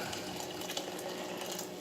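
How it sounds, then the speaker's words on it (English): Boiling water pours steadily into a dirty container to soften hardened residue, a continuous close splashing rush with no voices. "I just added some boiling water to it, so presumably that's going to soften it up"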